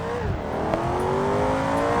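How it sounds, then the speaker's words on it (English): V8 luxury sedan in the BeamNG driving game accelerating hard, the engine note climbing steadily in pitch, loud and close, with a sharp exhaust bang early on. "Wow, a bit of banging from the exhaust there."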